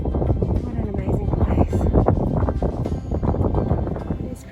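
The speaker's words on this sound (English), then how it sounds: "It's very windy, but it is really beautiful." Gusty wind buffets the microphone with a steady low roar on a ridge along the Larapinta Trail in the Northern Territory, while a person talks over it throughout.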